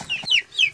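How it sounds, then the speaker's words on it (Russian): Young Ross 308 broiler chicks, still in down, wander outdoors in cool weather, giving a few close, high, sweeping peeps and soft clucks in quick succession. "Цыплята на улице ходят."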